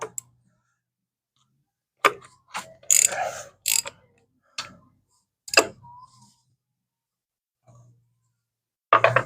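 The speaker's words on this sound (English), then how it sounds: "Okay, I gotta use a bigger ratchet." A ratchet wrench works on bolts of a Harley Davidson heritage trike, giving short bursts of close metallic clicking separated by pauses, with no talking.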